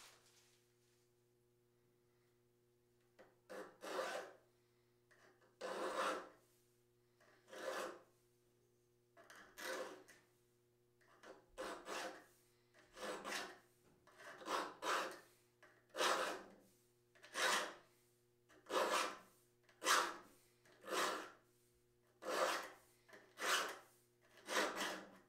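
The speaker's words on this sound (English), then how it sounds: "I believe it's a slim taper file, and I'm just going to follow the patterns of the teeth at an angle each way and then back" Six-inch slim taper file sharpening hand saw teeth, a quiet rasping stroke repeated about twenty times in an even, unhurried rhythm over a faint background hum.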